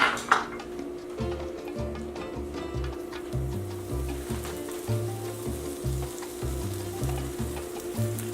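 Quesadillas brushed with canola oil lie oil side down in a hot pan, giving off a steady, soft sizzle and crackle that continues without a break and without any voices.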